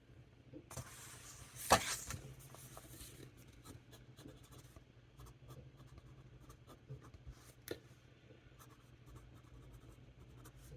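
A fountain pen nib scratches across Tomoe River paper close up in a quiet room, with faint irregular scratchy strokes and one louder rasping stroke early on.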